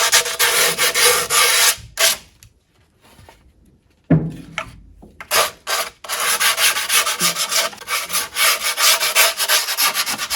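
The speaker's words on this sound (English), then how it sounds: "I'm going to use the cutaway grip tape and basically sand the edges" Edges of skateboard grip tape sanded with a cut-off strip of grip tape: loud, close, rasping scrubbing strokes in repeated bursts, with a brief pause near the middle.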